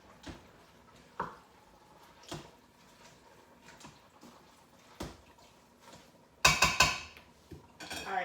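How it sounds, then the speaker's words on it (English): A metal utensil stirs chicken soup ingredients in an Instant Pot, making sparse, light clinks and scrapes against the pot, ending in a brief louder clatter. "Now we're just gonna give that a stir, mix in everything together."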